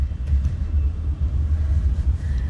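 Deep, steady road rumble fills a car interior while driving slowly through traffic, a close low drone with slight pulsing swells and no voices.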